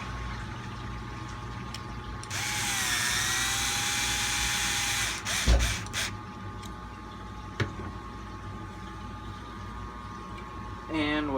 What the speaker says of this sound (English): You'll want to stop when the head of the screw gets to the surface of the 3D print.